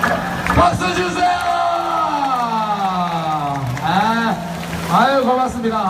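Audience applause at a flying board show at Daegu Spa Valley, a crackling spatter of clapping heard beneath a loud, drawn-out voice on a public address system.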